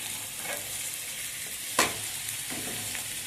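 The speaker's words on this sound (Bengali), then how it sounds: "ক্যাপসিকামগুলোকে ওর সঙ্গে ভেজে নেব" Steady sizzling of chopped capsicum frying in a pan for mixed fried rice, with a few scraping stirs and one sharper clank of a utensil, no voices.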